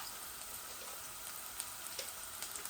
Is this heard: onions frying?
yes